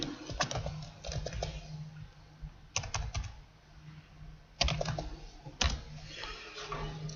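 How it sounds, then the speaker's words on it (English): Light typing on a computer keyboard as a word is entered into a library catalogue search field, quick clusters of close, soft key clicks separated by brief pauses. "I can come up here to the search field and type in mystery"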